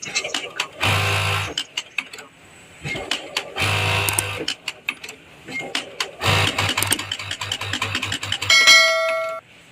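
A sewing machine with a rotary hook runs a back stitch in several bursts of close mechanical stitching separated by pauses, with a bright ringing chime near the end and a voice talking in between.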